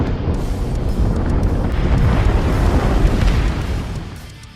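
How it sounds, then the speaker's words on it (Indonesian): Bomb explosions on a war-film battlefield, heard as a loud, sustained, rumbling boom that rolls on for several seconds before fading away. "mereka menyaksikan ledakan-ledakan bom di atas sana"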